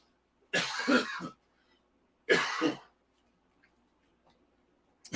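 Two separate bursts of coughing, close and fairly loud, with a quiet pause between them and a faint click at the end.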